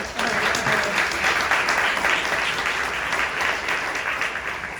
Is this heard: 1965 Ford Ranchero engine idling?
no